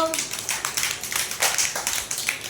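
Quick rhythmic hand claps from children playing a fruit-name game: a close, fairly loud burst of uneven claps over a faint murmur of voices.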